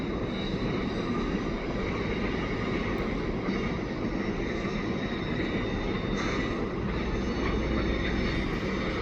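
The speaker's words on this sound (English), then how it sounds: "And there's a commuter train coming in from St Hilaire, it looks like." A commuter train from St Hilaire rolls in with an ALP-45DP locomotive pushing at Pointe St Charles Yard, a steady broad rumble and rail roar from moderately near, without voices.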